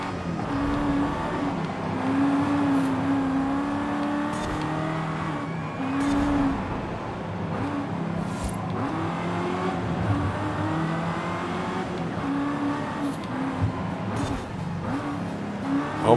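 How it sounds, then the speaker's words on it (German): A racing car engine in Forza Horizon 5 drones steadily throughout, its pitch rising and falling with gear changes, loud and continuous with no talking. "Hört sich aber nicht schlecht, das Auto."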